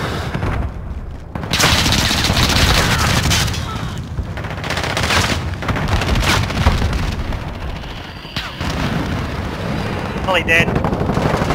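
Heavy gunfire and explosions fill a Call of Duty match in dense, continuous bursts, loud and close, with a player's voice speaking briefly over the shooting.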